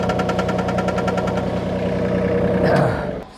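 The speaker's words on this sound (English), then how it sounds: "So I'm going to put this into the tractor again and just hoist it up just a little bit more." A tractor engine runs at a steady idle while hoisting a building frame for a tiny home, its loud, even rumble and knock continuing until the engine note drops away near the end.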